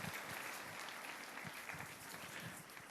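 A crowd applauds steadily at a church intercessory prayer school graduation ceremony, a dense wash of clapping that carries on for the full stretch without any voices over it.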